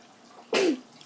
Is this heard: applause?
no